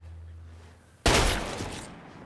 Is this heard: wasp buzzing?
no